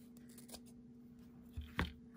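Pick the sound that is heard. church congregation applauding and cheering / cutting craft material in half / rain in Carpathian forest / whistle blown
cutting craft material in half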